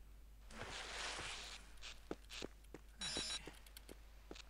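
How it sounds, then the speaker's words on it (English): A turret in Half-Life: Opposing Force gives a short electronic beeping tone, moderately loud, among game noises of rushing air, footsteps and thuds. "I heard the telltale beep of a turret."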